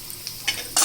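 Round balls of food hit a hot pan and are stirred, giving a few short bursts of sizzling that build to a louder hiss at the end.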